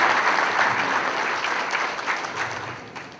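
A room of dinner guests gives a round of applause for Deborah Roderick Stark at a community unity dinner, a dense, steady clapping that gradually thins and fades toward the end.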